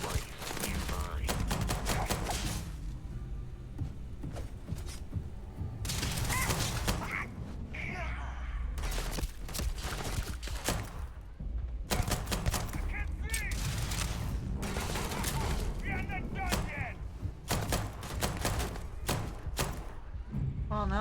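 Gunfire in the sci-fi video game Starfield comes in rapid repeated volleys and heavy thumps nearly the whole time, loud and dense, with someone talking between the bursts.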